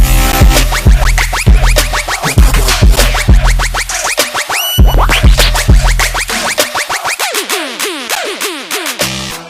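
Loud trap track drop with punchy sub-bass hits, rapid pitched stabs and swept effects in a driving rhythm, building like an electronic dance drop.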